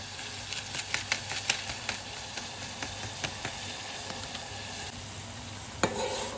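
Soup simmering in a pot, with a steady hiss and bubbling and a series of small regular pops, then a sharper knock near the end; no one speaks.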